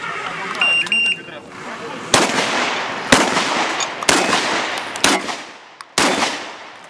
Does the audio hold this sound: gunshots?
yes